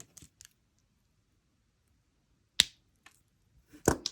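Sharp, brief clicks of cutters snipping off excess jewelry wire after wrapping, a few isolated quiet snips in near silence with a louder double cut near the end.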